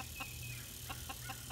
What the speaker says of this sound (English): let you see our chickens. And these are, now that's an old game rooster.